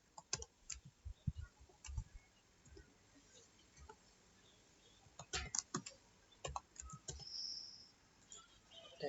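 Keys clicking on a computer keyboard in scattered bursts, close and fairly quiet, with pauses between runs of typing.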